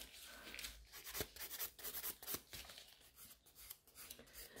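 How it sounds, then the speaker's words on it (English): Nail file rasping across the free edge of a gel nail extension, quick irregular scratchy strokes in close, faint bursts with no voices. "So I'm just filing the free edge."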